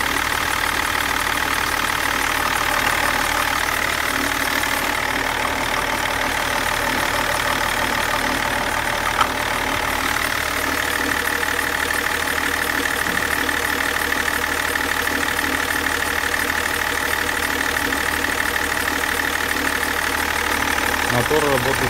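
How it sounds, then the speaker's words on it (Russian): Idling BMW E39 3.0td diesel engine, running steadily with a constant mid-to-low rumble and slight knock for over twenty seconds, loud and close, with no change in revs. "Мотор работает хорошо."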